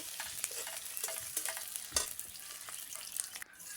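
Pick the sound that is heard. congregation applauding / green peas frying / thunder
green peas frying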